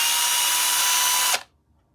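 A power drill with a 3.5 mm bit bores into an action figure's fist, a steady high whine running close and loud before cutting off abruptly, then silence.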